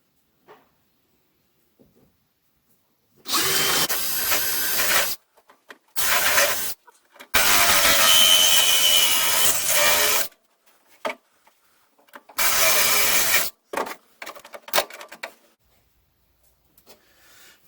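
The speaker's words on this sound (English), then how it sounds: "These bits are even cutting better than the other ones." Drill bits boring through the metal seat pan of a 1973 Mustang Mach 1: several loud, close grinding bursts of a few seconds each, separated by silences, with brief shorter runs near the end.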